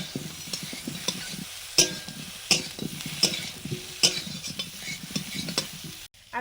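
Cauliflower frying in butter in a pan for a vegetarian lunch, a steady close sizzle broken by regular metallic stirring scrapes and clinks, with no talking.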